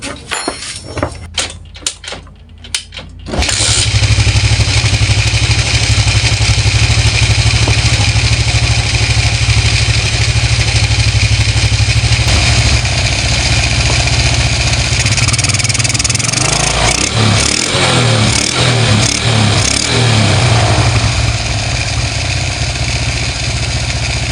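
After a few seconds of clanking, a low-compression motorcycle engine starts and keeps running loudly and close, a steady rough idle that revs slightly later.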